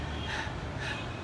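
A voice imitates the panting breath of someone running, making two breathy 'ha' exhalations in quick succession, close and soft with no other sounds.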